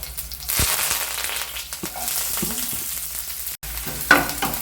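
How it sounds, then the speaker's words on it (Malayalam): Mustard seeds splutter in hot coconut oil with urad dal and dried chilies frying alongside, a close bright sizzle broken by sharp pops and scraping stirs, with a brief gap near the end. "1/2 ടീസ്പൂൺ കടുക് പൊട്ടിക്കാം"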